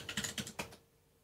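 A brief burst of keystrokes on a computer keyboard while a command is typed into the game FTB Infinity Evolved Expert, around eight quick, close clicks in under a second, then quiet.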